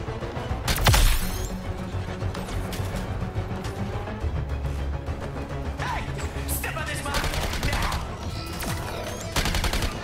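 Gunfire in the video game Suicide Squad: Kill the Justice League, with rapid bursts and single shots over continuous combat noise, plus a loud impact near the start.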